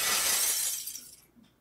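Glass shatters in one loud, bright crash that fades out over about a second, with a small tinkle of falling pieces near the end and no talking.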